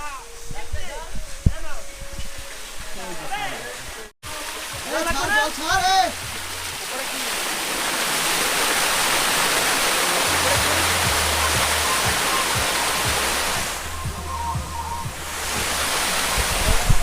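A small hillside waterfall in Assam where people are bathing gives a steady, close rushing roar that fills the clip, after a few seconds of talking at the start.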